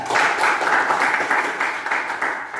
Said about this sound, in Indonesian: Tepuk tangan buat Nadia